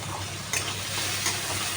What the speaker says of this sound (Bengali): এবার দেখুন টমেটোগুলো দিয়েছি, টমেটোগুলো একটু ভাজা ভাজা হোক